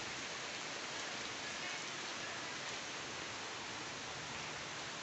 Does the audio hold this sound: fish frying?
no